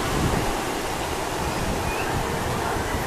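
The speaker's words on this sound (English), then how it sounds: "You probably can't hear the sound of the surf on the camera. Perhaps you can." Ocean surf washes steadily below a seaside balcony in a fishing village, a broad continuous roar mixed with wind buffeting the microphone, with no distinct individual wave breaks standing out.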